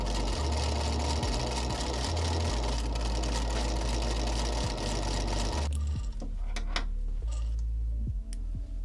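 A sewing machine stitches a pant leg with a steady, rapid mechanical whir and ticking that runs loud and close, pauses briefly several times, then changes to quieter, lighter stitching near the end.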